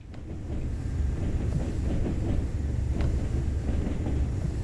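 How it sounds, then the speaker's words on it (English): Train driving along the Tees Valley Line in Train Sim World, a continuous rumbling run with rail clatter and rhythmic clicks over the track. "So I've got to remember I'm driving a train here"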